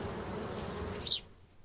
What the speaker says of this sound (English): This wiggly shot is Bombus lucorum, the white-tailed bumblebee, and it's buzzing about and getting itself some food as well.